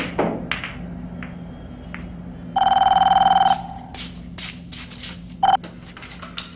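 A mobile phone rings with an incoming call indoors, a loud electronic ringtone burst of about a second followed later by a shorter one, over scattered taps and clicks in a quiet room.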